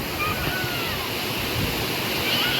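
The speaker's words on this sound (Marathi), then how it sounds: "तर सुंदर असो भारी धबधबो आपल्या पडताना दिसतं" A large waterfall in Konkan roars in a dense, continuous rush of falling water, loud and steady throughout with no pauses.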